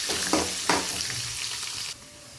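Crushed garlic and Byadgi chillies fry in a pan with mustard seeds for Melukote-style puliyogare powder, making a dense close sizzle with two quick stirring clicks before the sound cuts off abruptly.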